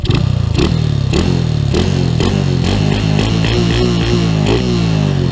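Honda Wave 125 motorcycle with a new spark plug, revved repeatedly by hand in loud, close bursts that rise and fall about every half second, the pitch climbing and dropping with each blip.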